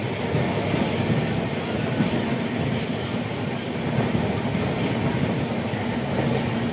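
Train rolling steadily on its run toward the Ganga river bridge, a loud continuous rumble of wheels and carriages heard from on board with no talking.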